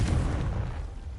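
A Confringo blasting spell goes off in Hogwarts Legacy, a single short, loud, low booming burst that rumbles and fades within about a second.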